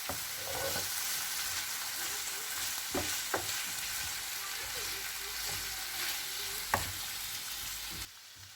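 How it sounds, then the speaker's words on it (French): Chicken quiche filling with parsley and coriander stirred in a hot pan: a steady frying sizzle throughout, broken by a few sharp scrapes and clinks of a utensil against the pan. "maintenant on va rajouter le persil et la coriandre. Et on va mélanger."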